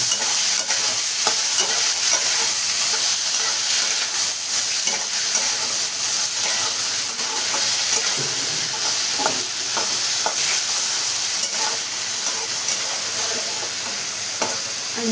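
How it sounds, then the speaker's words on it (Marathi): Cluster beans fry in a salted pan while being stirred, a loud, dense sizzle that runs unbroken up close, marked by occasional scraping and clinking of the spoon against the pan, with no one speaking. "बघू शकता मस्त अशी आपण गवार इथं मिक्स करून घेतलेली आहे."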